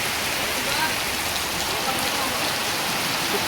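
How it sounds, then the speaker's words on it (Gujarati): Heavy rain pours steadily during a night of Navratri celebrations, a dense unbroken hiss of drops drumming on surfaces close by, with faint voices beneath. "એટલો વરસાદ પડવા માંડ્યો છે"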